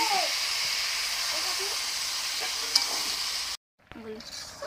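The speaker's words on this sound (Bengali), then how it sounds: "এবার পরিমাণ মতো জল দিয়ে দিচ্ছি।" Water poured into a pan of cooked cauliflower and potato sets off a loud, dense hissing sizzle with steam that runs on steadily, then cuts off abruptly, followed by quieter bubbling.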